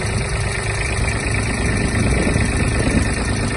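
A Japanese Kubota GB-18 mini tractor engine idles close by, a loud steady rumble with a faint rattling vibration, unbroken and without voices.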